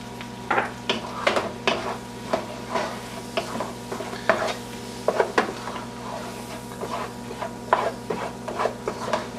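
Flour sprinkled over onions and stirred in a sizzling pan to build a roux for Salisbury steak, with repeated scraping and stirring strokes over a steady low sizzle, close and moderately loud, no talking.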